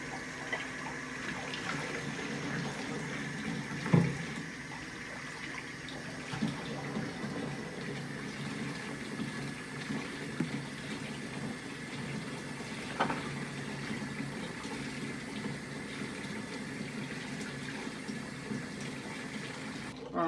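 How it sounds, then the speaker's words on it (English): Tap water runs steadily down a musket barrel while cleaning it, a continuous soft rushing pour at close range, alone, with a brief knock near the start. "Run some water down the barrel."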